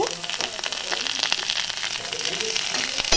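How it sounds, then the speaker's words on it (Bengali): Chopped tomatoes fry in a pan with potato and onion, giving a dense, crackling sizzle that continues for the whole short stretch. "টমেটো কুচি দিয়ে দিলাম। ভালো করে ভেজে নিলাম"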